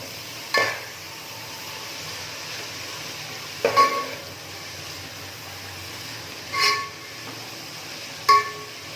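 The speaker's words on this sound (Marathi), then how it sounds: "आता ही आपण नीट कांद्यामध्ये मिक्स करून घेणार आहोत." Vegetables are stirred into fried onions in a pan, with a soft background sizzle broken by four sharp scrapes and clinks of a spoon against the metal at uneven intervals.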